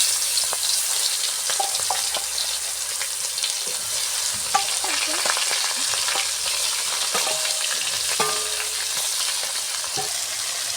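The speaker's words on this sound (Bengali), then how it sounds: "কুচিয়া মাছ আমি ভেজে নিচ্ছি" Kuchia eel fish sizzles steadily in hot oil in an iron wok over a clay stove, a dense continuous crackle with a few sharp stirring clinks scattered through it and no talking.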